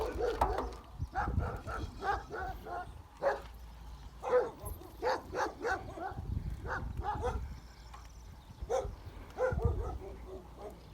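Guard dogs bark repeatedly from a short distance along a country road. The barks come in uneven bursts over steady outdoor noise, and a person talks faintly now and then.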